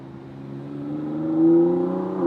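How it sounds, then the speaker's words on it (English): A car's engine rises in pitch as it approaches and passes, a smooth whirring rev that swells and then begins to fade. "right over there we have some kind of supercar. Let's see it when it passes by."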